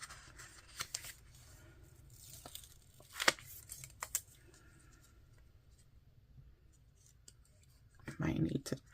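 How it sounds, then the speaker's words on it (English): A planner sticker peeled off its paper sheet, heard as a brief, crisp tearing rip up close, with a few light paper rustles and handling clicks around it in a quiet room. "Let's pull this sticker."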